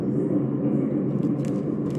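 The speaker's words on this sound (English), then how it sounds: "sorry about the noise back there, that's my really old washing machine" A very old washing machine spinning in a back room, a steady low rumble droning continuously at moderate loudness.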